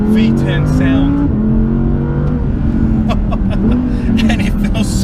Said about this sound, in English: to top it off, we've got the gorgeous V10 sound